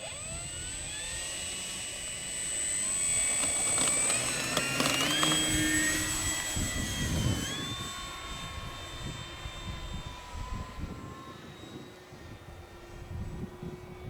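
A radio-controlled model Spitfire airplane takes off from a freshly mown grass airstrip, its engine whining high and steady, swelling louder and shifting pitch as it climbs away, then thinning as it flies off, with no talk over it.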